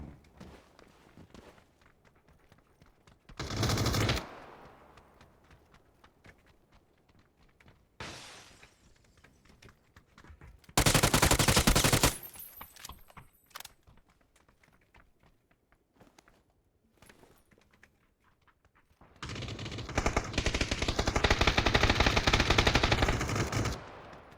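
Video game gunfire comes in three bursts: a short volley, a longer loud burst and a sustained spray of automatic fire. Footstep-like clicks and faint rustling fill the quieter gaps between them.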